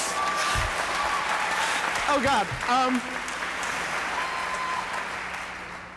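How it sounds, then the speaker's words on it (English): Audience applause fills an awards ceremony hall at the 20th Annual EVVY Awards, a steady broadband clatter of many hands running nearly the whole stretch, with voices talking and exclaiming over it. "Clap for him."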